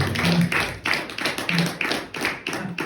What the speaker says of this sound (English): Give an applause for it.